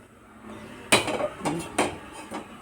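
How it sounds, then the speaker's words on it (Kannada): A metal pot set down on a gas stove before roasting peanuts, making a sharp clank followed by a few lighter metallic knocks and rattles close by. "ಇದು ಪಾತ್ರೆನ ಇಡ್ತೀನಿ"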